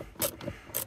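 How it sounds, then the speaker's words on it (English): A ratcheting socket wrench spinning a screw out of a heater speed control resistor on a Ford F150, a brief close run of quick metallic clicks and whirring bursts. "And I'm just going to hold the socket on there. And we're just going to spin it out."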